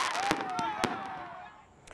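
Fireworks at a New Year concert in Bassam crack and pop in a few sharp bursts, with whistling trails and crowd noise behind, fading toward the end.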